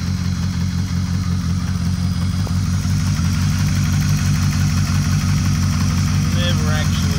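A car engine fitted with 1100 throttle bodies, 370cc injectors and a Kinugawa blow-off valve idles steadily and loudly up close, with a smooth, even low rumble throughout and faint voices in the background.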